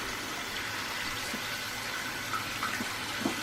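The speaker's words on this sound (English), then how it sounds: "now I'm gonna fill up the sink just a little bit" Tap water runs steadily into a household sink as it fills, a continuous close splashing hiss with slight gurgles near the end and no talking.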